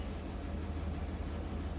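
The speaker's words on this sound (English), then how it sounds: "If you can hear that rattling in the background, that's my heater." A room heater rattling: a continuous dense rumble with a fast buzzing rattle, steady and fairly loud in the background, with no talking.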